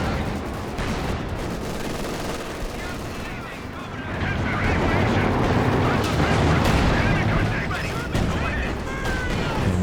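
SU-85 tank guns firing on and destroying a Panzer IV in the Company of Heroes 2 strategy video game, heavy booms and crackling battle noise building into a dense, loud wall of explosions and gunfire, with a commentator talking over it.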